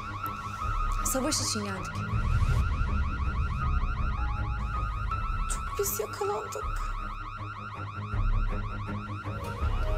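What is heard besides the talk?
alarm going off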